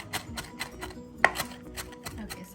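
A kitchen knife finely chopping food on a cutting board for a chicken tequila fettuccine, a steady run of close, crisp taps with one sharper knock midway, no talking.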